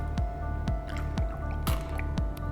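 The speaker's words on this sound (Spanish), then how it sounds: "Con agua lo fijamos a las paredes del embudo." Water dripping through wet filter paper set in a laboratory funnel, with steady, evenly spaced drips about twice a second over a constant low hum.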